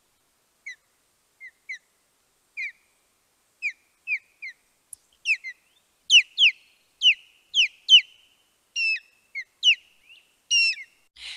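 A recording of an osprey display song plays: a series of thin, high chirping cries, spaced at first, then coming faster and louder. A brief spoken word comes at the start.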